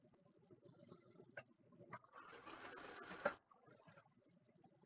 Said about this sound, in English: Trying to sew through so many layers.